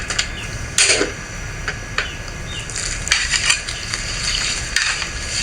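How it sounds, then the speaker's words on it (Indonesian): A spoon scrapes and clinks against a pot in irregular strokes over a soft bubbling simmer of coconut milk, close and fairly loud. "Kita aduk terus."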